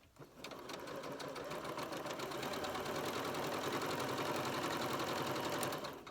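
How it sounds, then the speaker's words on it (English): A sewing machine stitches flying geese quilt units in a steady, continuous run at a scant quarter-inch seam, its fast mechanical chatter holding for several seconds with no talking. "now I'm sewing on the second unit a scant 1/4 inch"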